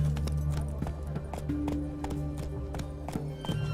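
A horse gallops in The Witcher 3, hooves clip-clopping in a steady quick rhythm close by, with a tack jingle and a brief tonal sting partway through.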